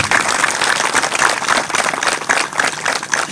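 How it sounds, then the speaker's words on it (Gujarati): An audience at a solar opening program claps to welcome a guest, a fairly loud, steady patter of many hands that continues throughout without speech. "તો એમને આપણે તાળીઓથી વધાવી લઈએ"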